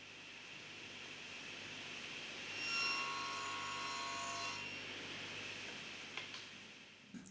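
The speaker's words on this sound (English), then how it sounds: "It's been a couple of years since I used this little bandsaw" A small bandsaw cuts wooden sticks held in a simple jig, a continuous whirring hum that swells into a brief tonal cutting whine, followed by a few light knocks as the stick is handled.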